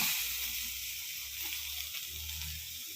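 Soft, steady sizzle of chopped seedless grapes dropped into a pan of sautéed onion and green chilli, a continuous close frying hiss with low bubbling underneath.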